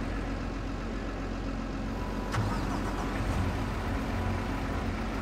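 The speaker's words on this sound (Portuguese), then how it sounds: "Deixa eu ligar o motor." A truck engine in Farming Simulator 22 turns over and settles into a low, steady rumble, heard alone and moderately close with no talk.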